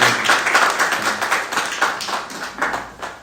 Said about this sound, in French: Applaudissons pour les missionnaires.